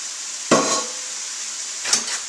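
Beans are tipped into a pan of frying mushrooms with leeks, the steady close sizzle broken by two bursts of scraping and spattering as they go in and are stirred.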